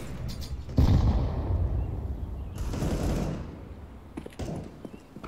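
Grenade exploding in CS:GO on the Inferno map: a sharp, loud blast with a rumbling tail, then a second heavier boom a couple of seconds later, with scattered distant gunshots around them.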